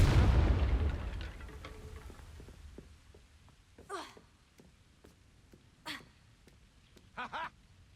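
In the Hogwarts Legacy video game, a Confringo blasting spell explodes as one loud, deep boom whose rumble decays over a couple of seconds, followed by scattered faint crackles and a few short, bright bursts.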